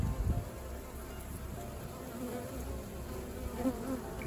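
A honeybee swarm hums in a steady, dense buzz as the bees fan, close and even throughout, with faint other sounds underneath.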